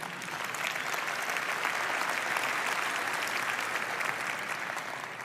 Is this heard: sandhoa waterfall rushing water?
no